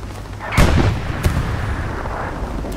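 Anti-tank rocket launched in the WWII shooter Hell Let Loose: a loud, close boom with a heavy low thump, then a fainter second blast about half a second later over steady battlefield rumble.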